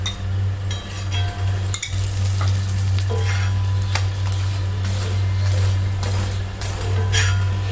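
Ghee sizzles on a hot pan under a chapati as it cooks, a steady close frying hiss with occasional clinks and scraping from a utensil, and no talk.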